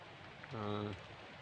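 Faint, steady rain hisses in the background at a plantation while a voice briefly speaks over it.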